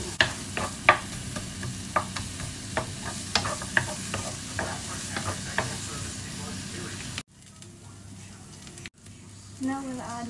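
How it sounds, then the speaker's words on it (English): Onion frying in a pan while being stirred, a soft sizzle punctuated by regular scraping knocks of the utensil, then the stirring stops and a voice speaks briefly near the end. "Cook the onion stirring 3 to 4 minutes or until"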